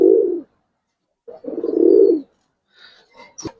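Pigeons coo in two low, throaty bursts separated by a pause, followed by a few faint higher chirps and a brief click.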